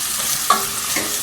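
Potatoes and pumpkin pieces drop into hot spiced ghee with a brief sharp sizzle and stirring, a steady frying hiss underneath, close and fairly loud.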